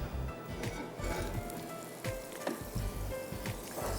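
Butter sizzles and crackles steadily in a hot pan as burger buns toast for aloo tikki burgers, a close, continuous frying hiss with small pops throughout.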